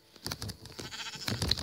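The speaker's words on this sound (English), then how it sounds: "Ooh, sheep right there." Sheep bleating in Minecraft Pocket Edition, a few short game-animal calls scattered across the moment alongside soft clicky game noises, no talk.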